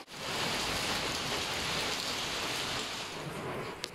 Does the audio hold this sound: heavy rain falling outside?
yes